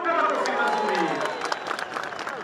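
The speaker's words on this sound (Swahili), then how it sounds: "Tupe makofi mazuri." Crowd clapping at a KDF Day air show at Laikipia Air Base, a brisk burst of applause with a voice over a loudspeaker talking over it.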